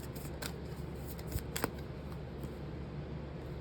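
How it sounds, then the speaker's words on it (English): A Moonology oracle card deck being handled and shuffled: faint, soft card flicks and ticks close by over a low room hum, with no speech. "I'm gonna use my Moonology deck next and pull out a few cards for this."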